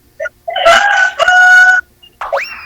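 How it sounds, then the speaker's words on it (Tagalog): A rooster crows nearby, with a short cluck at the start and a second call rising at the end, in a quiet setting. "May manok."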